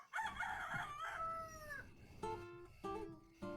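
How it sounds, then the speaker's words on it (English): A rooster crows loudly and close in a long rising-and-falling call, followed by a few shorter clucking bursts at the end, heard on its own without talk. "It was like Grandpa's rooster calling"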